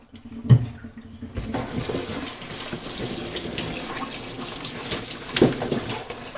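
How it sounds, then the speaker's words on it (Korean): A tap runs steadily to wet goalkeeper gloves, a close, continuous splashing stream that starts after a short quiet moment, with a couple of soft knocks at the start and end. "좀 적시고 물로 살짝 적셔주고"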